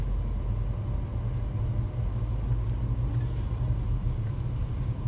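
A car drives around a site where building work is underway, heard from inside as a steady low engine and road rumble with no speech.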